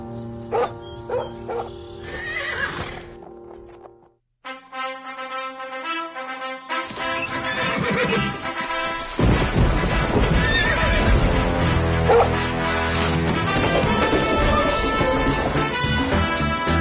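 A Clydesdale horse gives loud, drawn-out neighs and whinnies, then hooves clip-clop steadily while a musical score swells beneath, with a brief silent gap partway through.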